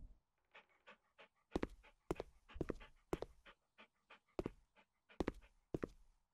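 A dog pants in House Flipper Pets, quick rhythmic breaths in close, loud bursts across several seconds with brief gaps, no talking over it.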